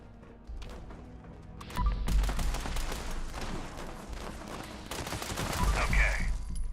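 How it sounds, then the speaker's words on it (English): Rapid gunfire and explosions in the video game Fallout 76, dense bursts of automatic shots and blasts building louder over several seconds, with a faint voice underneath at the start. "I still find the sound of the explosions at least mildly irritating"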